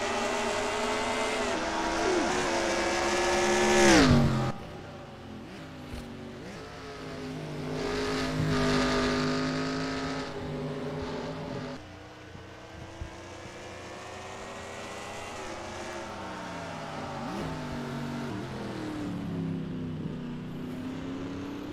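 Race cars roar around a track in a sim racing game with a Sunday Night Lights 1997 car set, engines droning in layered harmonic whines that rise and dip through gear shifts, one car swelling close and loud near the start.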